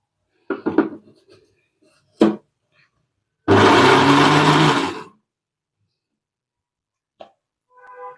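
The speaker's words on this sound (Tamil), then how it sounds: "இப்போ அதே மிக்ஸி ஜாரில் நம்ம கத்திரிக்காய் அரைச்சி எடுத்துக்கலாம்." A mixer grinder jar coarsely grinds brinjal for a Chidambaram-style brinjal thokku, running in one loud burst of about a second and a half on pulse mode, with short clattering knocks before and after.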